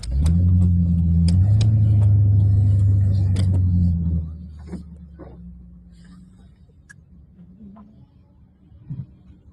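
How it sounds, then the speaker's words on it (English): A truck engine rumbles loud and close while driving, with a strong low drone that drops off sharply partway through and leaves a quieter idle-like hum with faint clicks. "The truck's a lot louder when it's on video."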